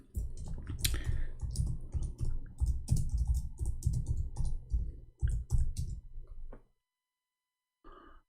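Rapid clattering keystrokes on a computer keyboard, close up and continuous for several seconds before stopping, followed by a faint brief sound, with no voices.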